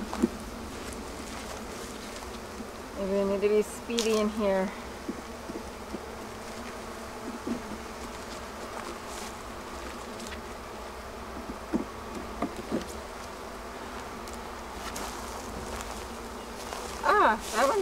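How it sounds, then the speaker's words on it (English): A packed beehive full of honeybees in spring build-up drones with a constant loud buzz, and a person speaks briefly over it a few times. "Lots of bees, loud bees."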